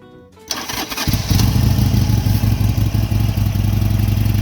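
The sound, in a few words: motorcycle engine starting and warming up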